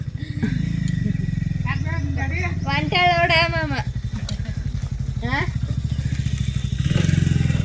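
A motorcycle ridden by a girl learning to ride idles and chugs with a steady low engine rumble throughout, while people talk over it.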